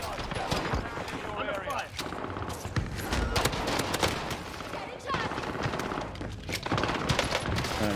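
Rapid gunfire from a Warzone match with an M4A1 assault rifle, dense bursts of shots crackling steadily throughout under overlapping game audio and voices.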